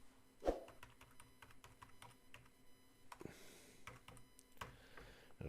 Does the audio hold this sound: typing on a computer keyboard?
yes